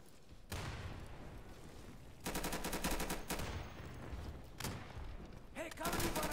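Automatic gunfire in the video game Insurgency rattles at the player in long, loud, rapid bursts separated by brief pauses, close and harsh, with a voice speaking in between.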